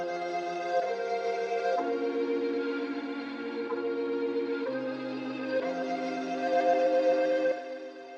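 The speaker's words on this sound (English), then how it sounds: "the first instrument we used was just Logic's own stock flute and strings" Logic's stock flute and strings play a sustained chord progression for a type beat, held chords shifting about every second or two, smooth and steady with no voices.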